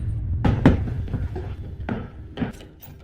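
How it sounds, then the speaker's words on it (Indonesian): Heavy fists bang on a door in a Green Lantern film scene: a few loud, uneven thuds in two clusters, close and sharp, with no voices. "kejadian tersebut berhenti saat Carol mengedor-ngedor pintu"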